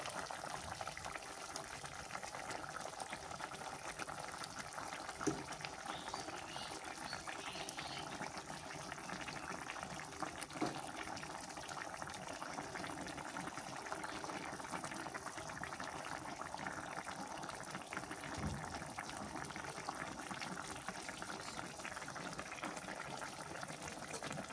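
Coral fish curry simmering in a pot gives a faint, continuous bubbling and boiling hiss with occasional soft clicks, steady for the whole stretch.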